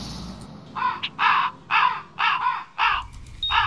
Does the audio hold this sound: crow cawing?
yes